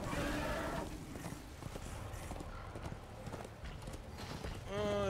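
Horse hooves clip-clop steadily while riding in the video game Darksiders 2, over a busy game soundscape with a brief whinny at the start and end.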